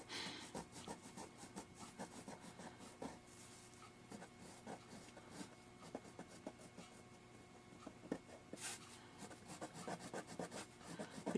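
Quiet, close scrubbing of a white eraser across watercolor paper, repeated short back-and-forth strokes in an irregular rhythm, soft and papery with no talking.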